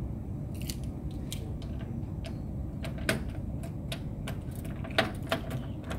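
A key turning and releasing the lock of the service door on an E550 vending machine, heard as a handful of sharp metallic clicks and ticks. The clicks come at irregular moments over a steady low background hum, close to the microphone.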